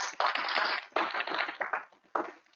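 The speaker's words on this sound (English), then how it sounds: "let's give those folks a round of applause" An audience at a community breakfast forum on graduate studies bursts into brief applause, a burst of clapping that fades, then a short second round.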